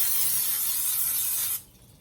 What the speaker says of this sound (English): you're just gonna spray our sheet pan here